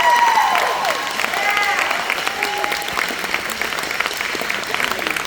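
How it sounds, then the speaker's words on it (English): Applause from the audience at a school sports awards ceremony honoring the graduating senior class, a moderate wash of clapping that continues under scattered voices and faint whistling tones. "how about a round of applause for the senior class?"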